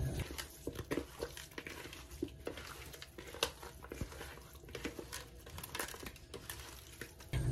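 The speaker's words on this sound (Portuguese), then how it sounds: "Agora é só misturar tudo." Seasoned tilapia and coconut milk mixture being stirred in a pot, soft scraping and wet sloshing with scattered clinks of a utensil against the pan, moderately close and fairly quiet.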